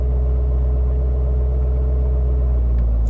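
A Corvette engine rumbles loudly and steadily at low revs during a manual driving lesson, a constant deep drone with no speech over it.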